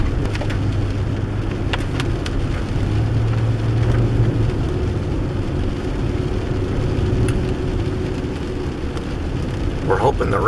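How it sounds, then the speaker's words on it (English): Rain keeps falling outdoors on the Pacific Northwest coast, a dense, steady patter that holds at a fairly even level, broken by a few sharp taps and a brief rustle near the end. "it's still raining a little bit too hard right now"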